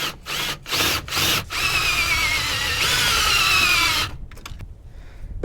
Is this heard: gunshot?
no